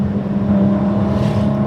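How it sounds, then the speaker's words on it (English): Loud motorcycle roaring past nearby, a steady heavy engine drone that fills the moment. "Oh, that was a noisy loud. bike."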